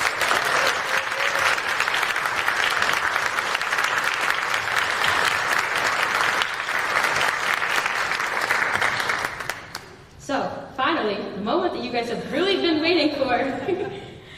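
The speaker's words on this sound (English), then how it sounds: "Please join me in bringing a huge amount of applause for all of our finalists" A large crowd applauds steadily for about ten seconds, then the clapping fades as a voice begins speaking.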